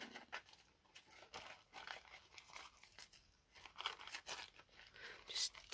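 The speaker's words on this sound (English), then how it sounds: "Tearing" Thin, almost transparent tea bag paper is torn by hand in a run of soft, irregular rips and crinkles, quiet and close, with faint room noise.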